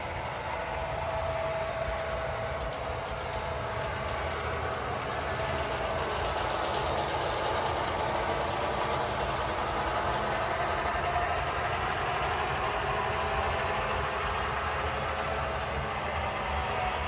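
A steady, continuous mechanical rumble with a droning hum and faint rattling from a long HO scale model train rolling past on a layout without stopping.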